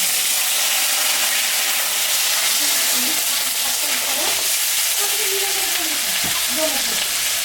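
Potatoes added to frying onion in a pan give a steady hissing sizzle with scattered pops and stirring scrapes, and faint voice-like murmurs underneath.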